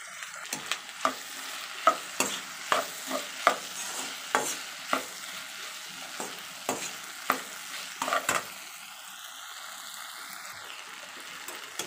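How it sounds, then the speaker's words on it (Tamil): Chopped tomatoes sautéing in a pan for Tamil mutton kulambu, with a steady sizzle and a regular series of sharp spoon scrapes and taps against the pan, alone without talk. "இது கூட நம்ம கட் பண்ணி வச்சுருந்த தக்காளியை சேர்த்துக்கலாம். ஒரு 3 நிமிஷம் வதங்கட்டும்."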